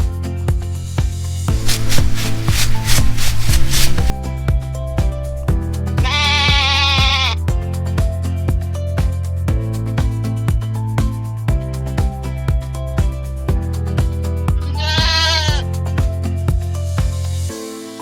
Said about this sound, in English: This is goat.